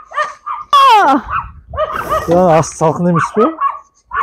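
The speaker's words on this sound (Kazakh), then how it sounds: "Бұл иттер арпылдап қошының иттер." A neighbour's dogs barking and yipping near a yard with chickens, with short whiny barks mixed in among a person's speech.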